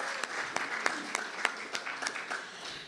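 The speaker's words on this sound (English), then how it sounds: "One more round of applause." An audience at a Sunday church service claps together, a brief burst of applause with scattered sharp claps rising and then tapering off.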